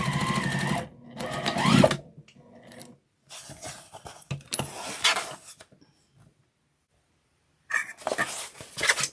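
A sewing machine stitching a half-inch seam on fabric runs in several bursts of rapid mechanical whirring, separated by quiet pauses, close and fairly clear.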